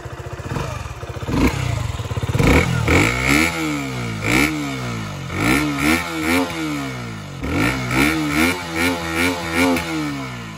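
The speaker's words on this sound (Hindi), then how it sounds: "मैं आपको इसका साउंड सुना देता हूँ एक बार" A KTM Duke 125 BS4 motorcycle is revved repeatedly while standing, each sharp blip climbing and falling back to a lumpy idle, close and loud, about a dozen throttle stabs in a row.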